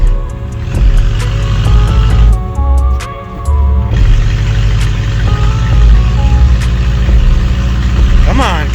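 A Chevrolet El Camino's carbureted engine sputters, then catches and revs up unevenly before settling into a loud, steady run close by, with a brief dip in the middle.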